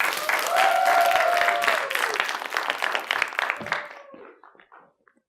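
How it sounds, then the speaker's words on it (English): A live audience at a speaking event applauds to welcome a speaker, loud sustained clapping mixed with cheers that gradually fades out over about five seconds. "Please keep that energy and that applause going"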